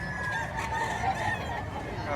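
Chickens sold at a budget poultry market in Batangas, with a thin crowing and clucking running through a steady din of market noise, partly under nearby talk.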